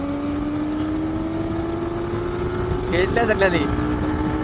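A group of about ten motorcycles, including a Dominar and an MT 15, accelerating on a road on Republic Day, with a steady engine drone rising in pitch and a voice briefly speaking over it.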